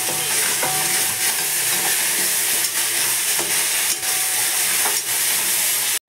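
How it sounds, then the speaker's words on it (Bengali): Spices that were rinsed in water sizzle and fry in a pan as they are stirred, a loud continuous hiss with scraping strokes from the spoon against the pan at a steady pace. "ভালো করে নেড়ে নেবো।"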